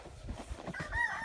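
Chickens in a pen clucking softly and steadily at close range, with a brief higher-pitched call rising near the end.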